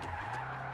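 Car tires skid in a slow drift in the Vspeedway Alpha VR racing game, a sustained squeal over a low engine drone, steady and close for under a second.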